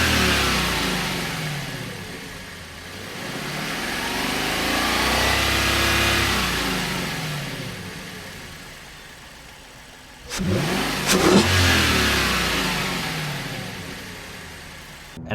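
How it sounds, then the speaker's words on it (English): A Lexus LC500 engine swells through slow revs, its induction noise rising and falling in long smooth waves, then cuts to a sharp click and a short louder burst before settling back. "it allows for, you guessed it, more induction noise"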